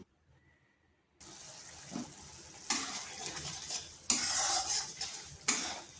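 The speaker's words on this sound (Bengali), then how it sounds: "এরপর এটাকে একটু ফুটিয়ে নিচ্ছি" Curry mixed with pasta sauce heating toward a boil in a pot, giving a steady bubbling, sizzling wash with stirring scrapes, louder in bursts after a quiet start, with no talking.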